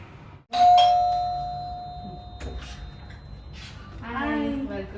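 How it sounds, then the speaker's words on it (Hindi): A doorbell rings at a home kitchen entrance with one bright ding that hangs and fades for a few seconds. Voices then speak over a low background hum. "डोरबेल बजाते हैं।"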